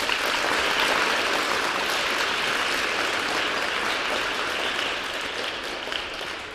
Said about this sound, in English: Can you all give her a big clap, girls?